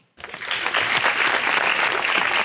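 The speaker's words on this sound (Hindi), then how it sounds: "तालियां" A crowd bursts into loud, sustained applause that starts suddenly and continues steadily as a dense wash of clapping.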